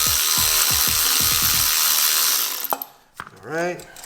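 A ratchet clicks rapidly while snugging a bolt during an intercooler install on a BMW F30. A steady air hiss runs underneath, then a couple of clanks and a short squeal follow.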